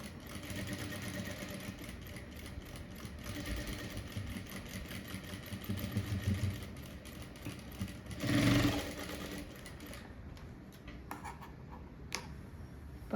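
A domestic sewing machine stitches a blouse back-neck design, running in a steady fast mechanical chatter that stops near the end, leaving a few light clicks.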